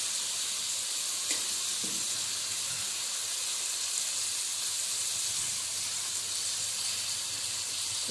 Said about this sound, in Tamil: ஒரு 2 நிமிஷம் வதக்கிட்டுங்க.